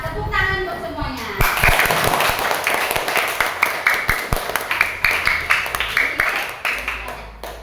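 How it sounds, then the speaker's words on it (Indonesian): Schoolchildren in a classroom clap their hands together in a quick, regular rhythm after a brief stretch of voices, the sharp claps close and bright with chatter mixed underneath. "Tepuk tangan untuk semuanya."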